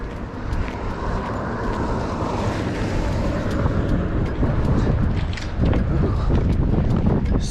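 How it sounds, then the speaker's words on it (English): Strong wind buffets the microphone beside a lake on a spring fishing trip, a loud continuous rumbling roar with gusts that swell and fade, heard alone without speech. "Super windy."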